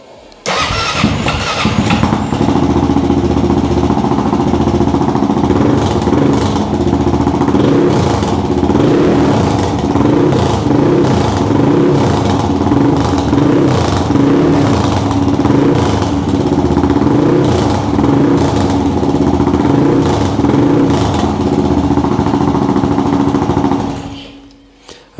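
A CCM Spitfire 600 motorcycle with just 12 miles on it starts and settles into a loud, steady single-cylinder idle with a throbbing beat and rhythmic pulses, running close by until it cuts off near the end.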